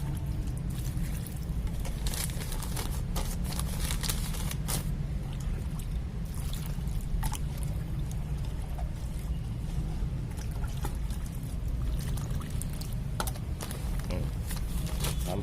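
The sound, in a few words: water poured onto bamboo-leaf and rice-husk planting media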